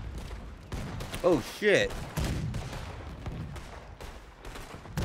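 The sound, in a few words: gunfire at a ship in video game Red Dead Redemption 2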